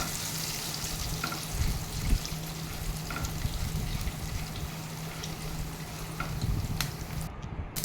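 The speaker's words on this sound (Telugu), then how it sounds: "కొంచెం కరివేపాకు వేసి బాగా వేపిద్దాము" Curry leaves frying in hot oil in a home kitchen, giving a steady, close sizzling crackle with small pops throughout.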